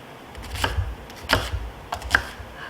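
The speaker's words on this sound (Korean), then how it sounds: "양파, 당근, 그래도 시험이니까 약간 일정하게 한번 썰어보세요" Knife chopping onion and carrot on a cutting board while preparing vegetables for blanching seafood, heard as a few sharp, separate cuts spaced about a second apart, close and fairly clear, with no talking.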